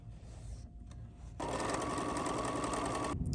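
An embroidery sewing machine stitches a placement line on a quilt sampler block, with a low hum that switches to a loud, rapid, steady stitching buzz before cutting off.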